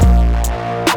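Trap beat pushed through an extreme hard clipper, a loud, heavily saturated buzzing tone with booming sub-bass and a couple of harsh crackling bursts, heard alone over one second.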